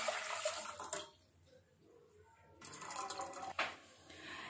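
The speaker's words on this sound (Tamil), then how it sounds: "இப்போ ஒரு பாத்திரத்தில் நம்ம 1 லிட்டர் அளவுக்கு தண்ணீர் ஊற்றிக்கலாம்." Water poured into a cooking pot, a loud splashing pour that stops, then resumes briefly in a second stream.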